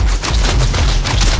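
Burst of rapid gunfire in the video game Nosgoth, loud dense close shots blending into a continuous rattle across a short stretch.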